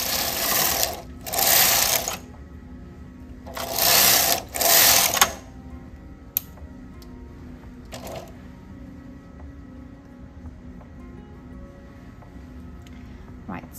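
A domestic knitting machine carriage knits four rows in quick, loud whirring passes, two pairs close together. After the passes, a faint low mechanical hum with a few small clicks remains.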